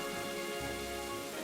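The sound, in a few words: rain downpour storm in Pokemon Black and White video game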